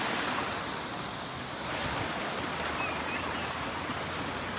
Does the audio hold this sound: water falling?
yes